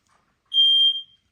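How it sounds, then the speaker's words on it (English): A single clear high-pitched electronic beep from a smoke detector, lasting about half a second, sounding alone in an otherwise quiet room. "did y'all hear that beep?"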